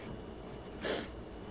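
A single short, sharp nasal sniff or snort from someone with allergies, close and brief against a quiet room background.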